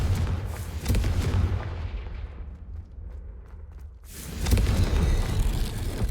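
A Confringo fire spell blasts in the Hogwarts Legacy video game, a loud booming explosion whose roar fades into a low rumble before another heavy burst of noise swells back up; no speech over it.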